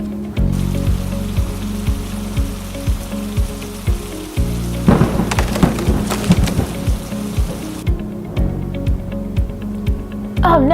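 Heavy rain from a thunderstorm patters steadily on surfaces, with a burst of louder crackling partway through and a faint tone near the end.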